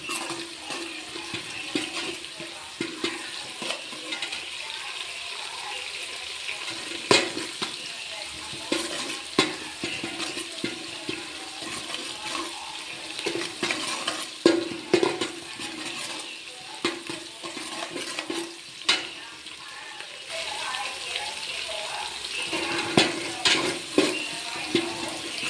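Curry leaves hitting hot oil in a pan, a steady spattering hiss with irregular sharp crackles and pops throughout, close by and fairly loud, no voices.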